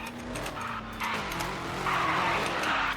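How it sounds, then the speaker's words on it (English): Tuned Dodge Challenger sliding sideways around a race track, a continuous loud tire skid over a steady engine drone that swells slightly toward the end, with no talk. "It's just sliding. There's no turning, there's no real control of the car."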